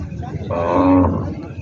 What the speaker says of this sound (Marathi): शेतकऱ्याचा मित्रांनो जोड आलेला आहे आपल्या परभणी खंडोबा बैल बाजारामध्ये